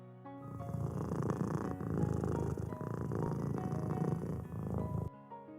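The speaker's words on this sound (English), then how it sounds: "You probably know what a purring cat sounds like." A domestic cat purring close up, a steady low rumbling vibration that runs continuously for several seconds before cutting off, alone over a faint soft background.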